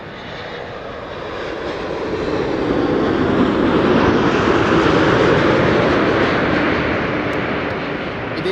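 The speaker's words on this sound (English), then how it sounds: "This is KLM flight 636 7879 Dreamliner arriving from Las Vegas." A KLM Boeing 787 Dreamliner arriving at Schiphol from Las Vegas makes a broad engine roar that swells up from moderate to loud as it passes close by, then eases slightly toward the end, with no one talking.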